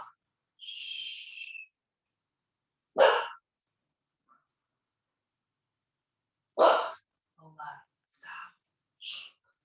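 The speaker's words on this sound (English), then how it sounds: "my doggy's barking" A pet dog barks in a couple of short loud bursts, separated by silence, with a few faint whispery breaths and small squeaks in between.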